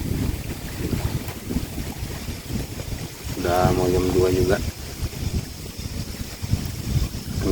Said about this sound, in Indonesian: angin sudah mulai kencang ya.